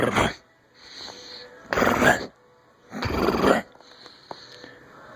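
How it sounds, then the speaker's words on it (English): A dog growls in low rumbling bursts, three longer growls of about half a second each separated by quieter stretches with softer grumbles, close and moderately loud with no talking. "earlier he popped his head up and started growling."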